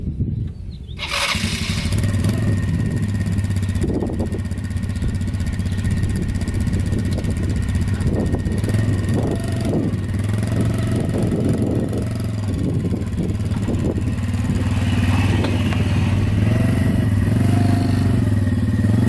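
A quad ATV engine runs steadily nearby and keeps up a continuous loud mid-pitched drone while the machine reverses. The engine note wavers slightly and there is no talk.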